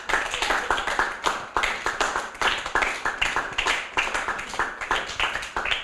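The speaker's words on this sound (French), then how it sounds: "On applaudit Lemuel." An audience applauds a young presenter, Lemuel, after his book presentation: dense, fairly close clapping in rapid bursts, sustained for several seconds with no voice over it.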